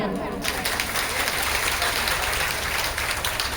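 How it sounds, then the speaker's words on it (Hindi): An audience claps together at a devotional Bhagavata katha gathering, producing dense, steady applause that carries on loudly through the whole moment. "एक बार अपने लिए भी ताली बजा दें।"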